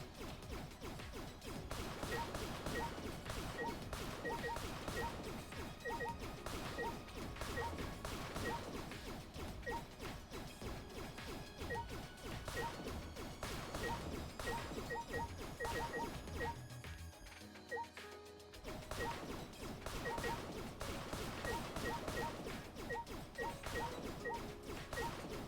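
Repeated smashing and whacking of breakable furniture such as chairs and benches in Danganronpa V3, dense crashes and thwacks over busy game music for most of the stretch, with a short lull near the end.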